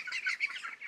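Five-week-old meat chickens on a farm during a rainstorm chirp steadily, a dense flock of close, high peeping calls overlapping without pause and with no talk.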